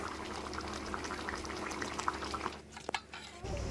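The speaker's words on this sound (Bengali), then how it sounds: "আর এক মিনিট খুব ভালোভাবে ফুটিয়ে নেওয়ার ফলে কিন্তু তরকারিটা পুরোপুরিভাবে হয়ে গিয়েছে" Fish curry bubbles at a rolling boil in an uncovered pot over a gas flame, a soft continuous simmering burble with small pops, fairly quiet and close.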